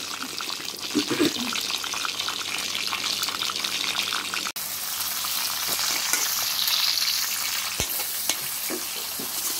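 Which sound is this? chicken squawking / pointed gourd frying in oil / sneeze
pointed gourd frying in oil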